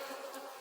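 Honey bees buzz steadily and close at a hive being reworked, a dense continuous hum with no other sound.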